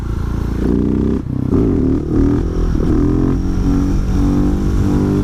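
A Husqvarna 701 supermoto accelerates in third gear on a narrow road, its single-cylinder engine loud and close with a pulsing, rough drone.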